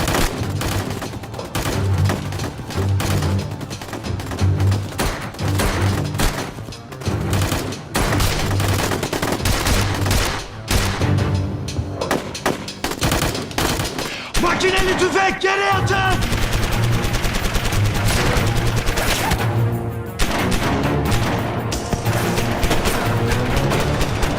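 Machine gun fire rattles in long, rapid bursts through a combat scene, loud and close, with dense overlapping shots and a steady low drone underneath, and voices shouting at times.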